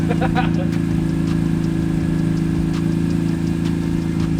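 A BMW E46 M3 engine runs at a steady idle just after starting, a loud continuous low rumble held close throughout.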